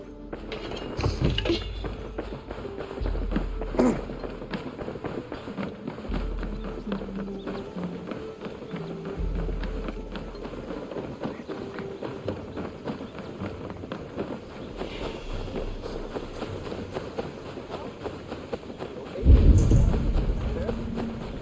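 Horse hooves clip-clop in rhythmic bursts from Assassin's Creed Valhalla, the Wrath of the Druids expansion near Dublin's gates, with steady clopping and thudding under game ambience and a low rumble swelling near the end.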